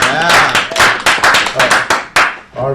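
A small group at a city finance committee meeting claps for a departing staff member, with loud, close hand claps in uneven bursts and no speech.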